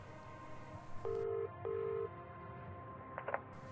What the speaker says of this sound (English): using spare money, you decide to call the police from the phone box.